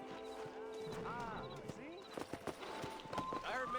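A cloned warhorse in the video game Red Dead Redemption clip-clops along with close, steady hoofbeats, a whinny rising in the middle, while a voice talks over it.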